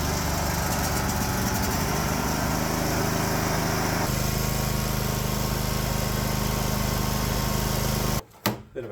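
A Cub Cadet 1050 Hydro lawn tractor engine running loud and close, a steady buzzing drone that shifts pitch midway, then cuts away abruptly near the end.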